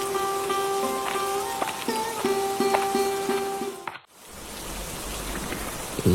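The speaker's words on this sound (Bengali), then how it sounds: "সে সকাল থেকে এক নাগাড়ে বৃষ্টি নেমেই চলেছে" Steady rain falls as a broad, even hiss that swells in after a short stretch of tonal music cuts out, continuing close and loud to the end.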